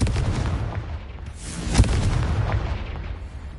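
A Confringo blasting spell in Hogwarts Legacy bursts with a single sharp explosion midway, ringing over a steady rumbling game backdrop with no talking.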